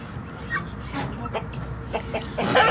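An Indian rooster clucks repeatedly against a noisy farmyard background, with a louder burst of calls near the end.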